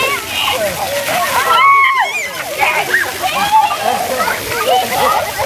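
Outdoor water play: a spray of water splashes steadily and loudly throughout, and children's excited voices and squeals ring out over it.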